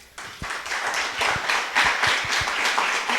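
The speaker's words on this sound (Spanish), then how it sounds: "Démosle un fuerte aplauso." Modest applause from a small lecture audience, scattered distinct claps building into a loose steady patter, close and moderately loud, with no talking over it.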